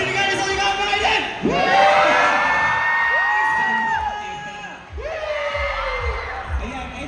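Fan crowd at a K-pop fan fest concert screaming, whooping and cheering loudly and continuously, with rising shrieks and yells filling the space throughout.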